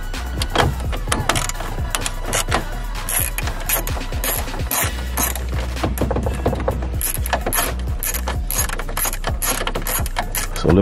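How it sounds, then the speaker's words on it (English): A ratchet socket wrench working on a bolt under the dash of a 1985 Chevy Impala, with rapid clicking ratchet strokes in irregular bursts alongside metallic clanks and rattles, close and fairly loud. "So I've been trying to find the right socket to take that one off."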